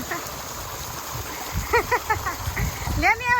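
A motor pump pours water into a farm tank with a steady gurgling flow and bursts of splashing, while people talk and call out close by.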